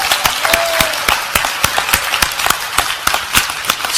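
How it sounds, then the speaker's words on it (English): A church congregation claps for a pastor, with distinct sharp hand claps standing out over a background of broader applause, fairly loud and close. "Let's give a good clap to Pastor Elizabeth."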